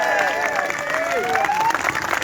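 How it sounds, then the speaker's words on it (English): An audience at a demonstration in Bournemouth applauds, with sustained crowd clapping under tonal whistles or calls that sweep briefly over the noise. "Some round of applause for Sam"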